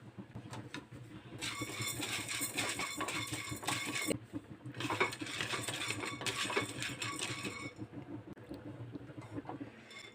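Chana dal for a sesame chutney is tipped into a pan and stirred, making two long bursts of dry, grainy rattling and scraping, close and fairly soft with short pauses between.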